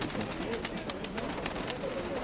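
Pigeons coo and flutter in a busy open-air market fair in Dnipro, a steady murmur of bird calls and rustling under a crowd's background chatter.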